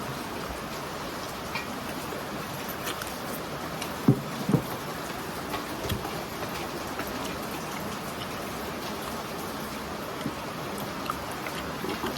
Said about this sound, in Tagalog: Welcome to the rain.